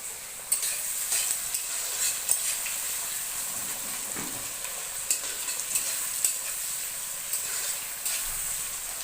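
Onions frying in a pan while ginger, garlic and cumin paste wait to join them, a steady close sizzle with soft stirring scrapes and faint ticks throughout, no voices.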